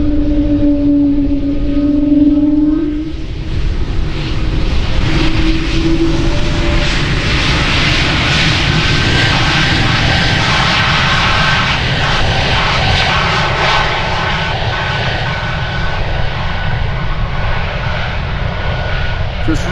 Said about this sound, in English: So those planes are all taking off right in front of the 747.